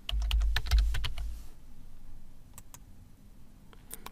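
Rapid clicks from a computer keyboard as a password is typed, a quick burst of close keystrokes followed by a few scattered taps, with no talking.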